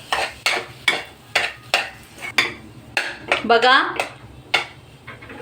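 Sweet potato shira mixture with ghee, cardamom and sugar is stirred in a pan, a spoon scraping and knocking the metal in a steady run of sharp clinks about twice a second, close and clear, with a brief spoken word in between.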